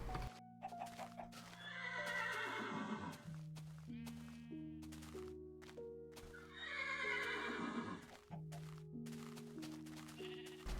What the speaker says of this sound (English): I finally got the horse.